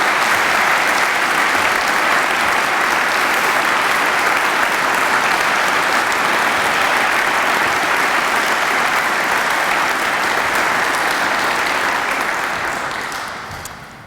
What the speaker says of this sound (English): join me in a round of applause for all of our Bishop of Parramatta Award for Student Excellence recipients